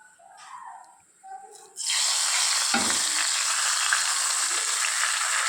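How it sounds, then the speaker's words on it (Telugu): Tempering poured into lentil dal made with tender tamarind leaves: after a few soft kitchen sounds, a sudden loud, bright sizzle bursts up and holds steady to the end, with a brief low thud partway through. "మనము ఈ తాలింపును పప్పుకు యాడ్ చేసుకుందాం."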